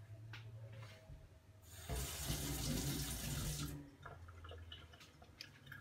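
Tap water runs into a sink to wet a knife coated in a solidified paraffin and cornstarch mixture, a steady rushing splash lasting about two seconds that starts and stops abruptly amid quiet handling noises.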